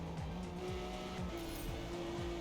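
A BMW M4 Competition in Forza Motorsport, lapping the Nürburgring, hits the rev limiter, a steady engine drone broken by rhythmic rapid rev drops, with faint tire noise and no talking.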